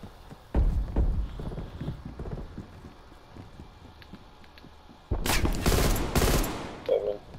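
Gunfire in Call of Duty Cold War rings out in a loud, sharp burst of several rapid shots late on, following quieter scattered impacts and game noise, with no talking.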